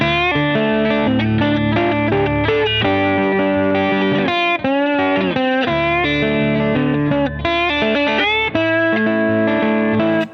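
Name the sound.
lap steel guitar played in open D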